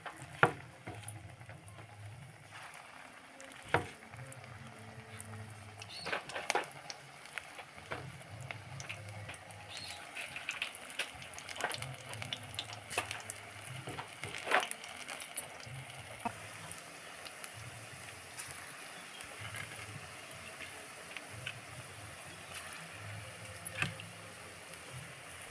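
Drumstick flower pakoras fry in hot oil, giving a soft, steady crackle and bubbling that runs throughout, with small irregular pops and no talking.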